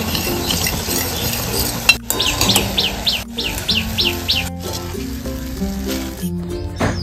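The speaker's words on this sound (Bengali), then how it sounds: "একইভাবে ফুড কালার মেশানো বোঁদেটাও ভেজে নিতে হবে।" Food-coloured bonde batter drops deep-frying in hot oil, giving a steady bubbling sizzle with occasional stirring. A run of bird chirps sounds in the background partway through.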